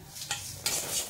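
Fried poha namkeen being tipped from a pan into another vessel, short faint scraping and rustling of the crisp flakes against metal, two quick clinks amid a low hiss.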